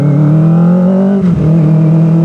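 A Kawasaki ZX-25R Limited Edition engine is held high in its rev range, giving a loud, steady, close whine that wavers briefly midway before settling back to a constant pitch.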